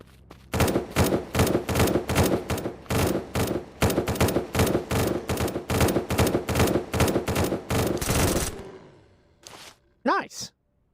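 Automated turrets in the video game SurrounDead fire loud, rapid bursts of gunfire for about eight seconds, then fall silent. A short whooshing effect follows near the end.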